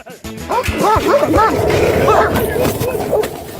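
A dog yips and barks in quick, high-pitched bursts, several close calls in the first half over busy background noise and what may be people talking.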